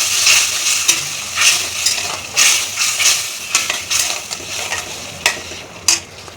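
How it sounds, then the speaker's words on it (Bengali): Okra masala is stir-fried in a pan, producing a continuous sizzle broken by rhythmic scraping and clinking of a spatula against the metal, close and fairly loud with no talking. "মশলাটা ভালো করে এবার কষে নিব।"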